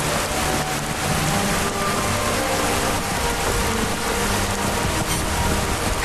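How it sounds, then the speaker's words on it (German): Steady, dense rainfall in Skyrim VR, a loud unbroken hiss of drops pattering on surfaces for the full six seconds with no talk over it. "Und dann regnet auch noch."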